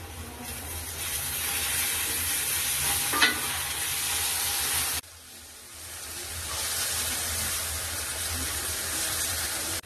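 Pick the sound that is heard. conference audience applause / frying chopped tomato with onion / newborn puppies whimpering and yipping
frying chopped tomato with onion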